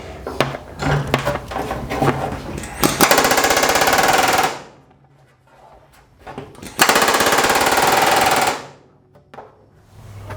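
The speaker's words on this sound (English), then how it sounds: "Double offset riveting. 470s in general are just miserable." Pneumatic rivet gun double offset riveting on an RV-7A aircraft firewall: two loud, close bursts of rapid hammering, each lasting about two seconds, with lighter clattering taps beforehand and quiet gaps in between. No one speaks.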